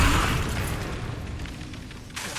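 Incendio fire spell cast in the video game Hogwarts Legacy against skeletons, a loud whooshing burst of flame with a rumbling low end that fades gradually, then flares again near the end.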